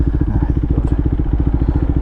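A motorcycle engine idles close by with a steady, even run of low, rhythmic thumps and a light mechanical clatter, and no one speaks.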